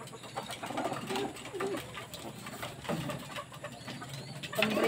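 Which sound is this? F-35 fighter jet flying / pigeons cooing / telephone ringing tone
pigeons cooing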